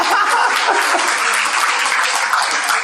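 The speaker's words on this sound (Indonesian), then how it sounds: "Tepuk tangan Pak Pendeta RT, luar biasa." Dense, loud applause from a crowd fills the whole stretch, steady and continuous without pause.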